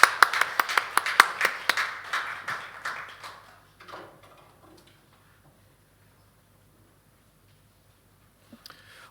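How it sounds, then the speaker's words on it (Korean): A church congregation at a Sunday service claps for the choir: a burst of rhythmic, fairly loud handclaps that quickly tapers into scattered claps, then near silence with a faint stir at the end. "우리 수고하신 우리 찬양대에게 박수 한번 주시죠."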